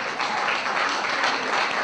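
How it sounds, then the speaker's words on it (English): An award ceremony audience gives a round of applause for a former Beacon of Hope Award winner, a steady wash of clapping hands at moderate volume, even and unbroken. "Please, a round of applause for a former winner of the Beacon of Hope Award."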